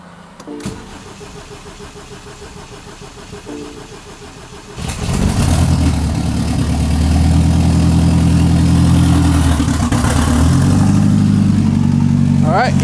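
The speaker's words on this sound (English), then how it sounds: "Let's start the car." A BMW 228i cranks and catches about midway through, then settles into a steady idle; a quieter mechanical whir precedes the start, and the engine runs close and loud to the end.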